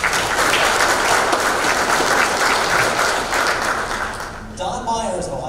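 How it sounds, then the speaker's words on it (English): Applause from the audience at an Ohio no-till farming summer field day panel, a loud sustained burst of clapping that tapers off, with a voice starting to speak as it fades. "Let's give him a big round of applause."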